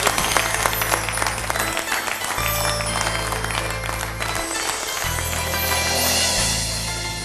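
An audience applauds at a health product presentation, with dense, sustained clapping from many hands continuing throughout over a low droning hum.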